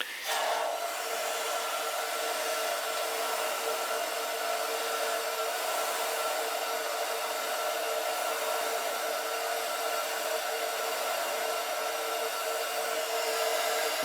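Gas steam boiler running, a steady, even broadband whoosh with a faint hum, continuous and unchanging throughout with no voices.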